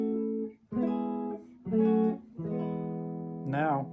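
A guitar picks out a short melody harmonized with minor 2 chords, four or five sustained chord stabs with brief gaps between them, close and clear, no voice.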